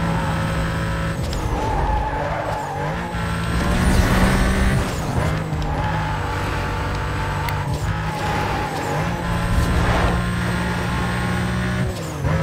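Race car engine from Need for Speed Most Wanted, a loud sustained roar with rising and falling revs, gear-shift steps and tire squeal under a dense backdrop of game music, continuous throughout.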